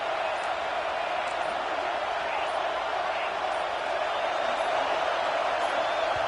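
Steady roar of a stadium crowd in the NCAA 26 college football video game, a dense, unbroken wall of noise at constant loudness throughout.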